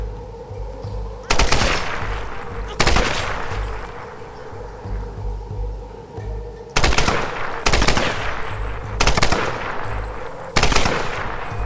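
Rapid machine-gun bursts from a video game arrive in loud, sharp volleys, several separate bursts spaced a few seconds apart over a steady hum of in-game background sound.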